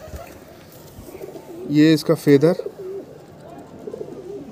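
A Kolkata eye-breed pigeon, a long-flying bird, gives a short burst of cooing in a couple of close pulses while someone talks over it.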